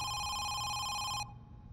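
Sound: telephone ringing in a video game

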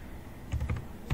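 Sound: typing a command on a computer keyboard

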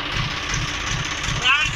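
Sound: John Deere 5310 tractor engine pulling sugarcane trolley in field

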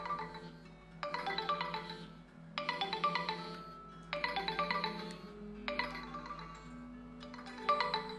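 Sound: mobile phone ringtone

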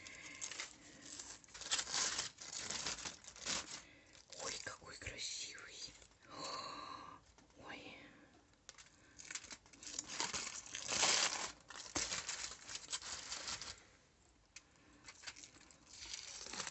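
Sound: wrapping crinkling as baked pork roll is opened

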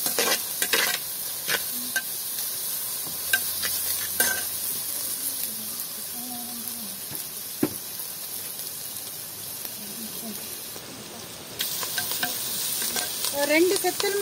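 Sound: sautéing onion with fennel and curry leaves in a pan

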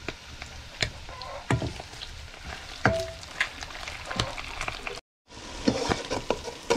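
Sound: blended cilantro browning in a pan

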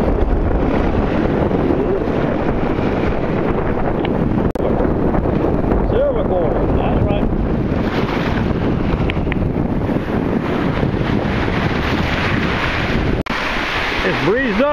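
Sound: wind blowing at the shore

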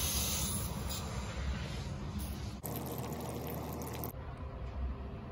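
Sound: water draining from water heater through hose

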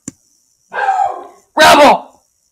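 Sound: dog barking

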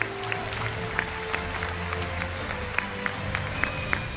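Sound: audience applauding Team BIG at esports prize ceremony

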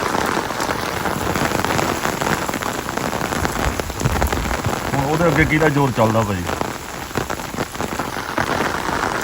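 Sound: heavy rain falling

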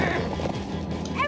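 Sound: horses neighing in video game Minecraft: Story Mode

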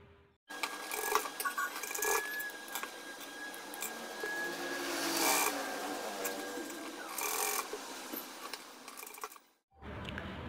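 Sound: sewing machine stitching a neck pattern on a top

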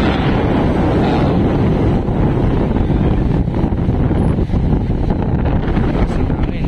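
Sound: strong wind at the beach

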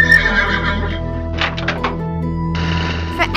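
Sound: LEGO Mecha Horse robotic horse neighing

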